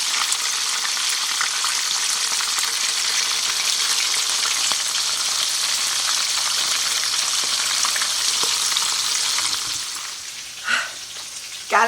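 Chicken pieces fry in a skillet with a steady, loud sizzle and crackle of hot oil, continuing unbroken before a few clattering handling sounds near the end.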